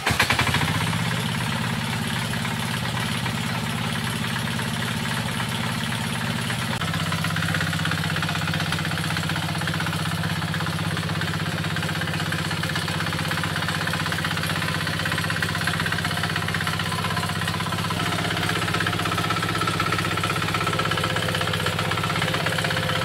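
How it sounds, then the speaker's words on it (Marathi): A tractor engine runs steadily before ploughing an areca nut plantation, a loud continuous diesel rumble with knocking, vibrating texture that shifts pitch slightly partway through and again near the end, with no talk. "सगळ्यात आधी आपण ट्रॅक्टर चालू करून ट्रॅक्टरने नांगरून घेऊयात"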